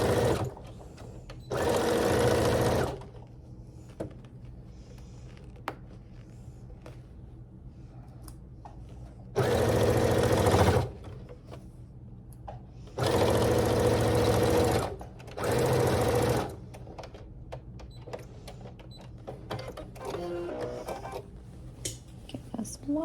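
A sewing machine sews the corners of a fabric tote bag in four separate whirring bursts, each lasting one to two seconds. Quiet handling noises fill the gaps between bursts.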